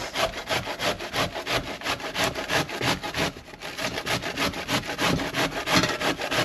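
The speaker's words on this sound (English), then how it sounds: "So you're shredding the cabbage." Cabbage rubbed rapidly against the shredding side of a hand grater makes a close, rhythmic rasping, steady back-and-forth strokes about twice per second throughout, and no voices.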